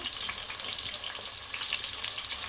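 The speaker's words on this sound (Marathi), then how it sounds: "आणि हे सर्व खडे मसाले ह्याला परतून घेते मी।" Chopped onion, bay leaf and whole spices frying in hot oil over medium heat for a Marathi-style masala rice, giving a steady, close hiss of sizzling with faint crackle throughout and no voices.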